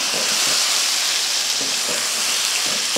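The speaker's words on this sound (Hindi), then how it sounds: "चिकन डाल के अच्छे से चिकन की भुनाई करनी है हमने" About a kilo of chicken with garlic paste and a splash of water browning in a pot for biryani, giving a loud, steady, close sizzle and hiss throughout, with a few soft knocks of stirring underneath.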